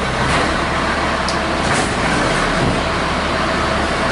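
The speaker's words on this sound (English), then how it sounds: "Sorry, we got a garbage truck." A garbage truck rumbles past outside a garage, a loud continuous engine drone with road noise and a brief higher hiss, all close and steady with no voices over it.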